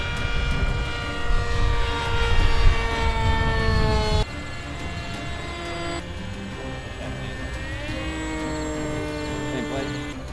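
A V-Spec RC model airplane flies overhead with a whining motor drone whose pitch rises and falls as it passes. The sound is steady and moderately loud, with a few shifts in tone.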